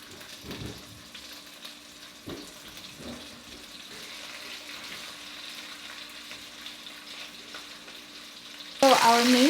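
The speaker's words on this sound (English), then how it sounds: "So now that our oil is hot, we're gonna throw in our meat." Beef stew meat sears in hot oil in a pan, a soft steady sizzle with a few light clatters, ending in a sudden loud rush of running water.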